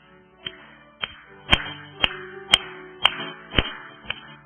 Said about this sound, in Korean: 우리 힘차게 다시 한번 박수하면서 1절 찬양합니다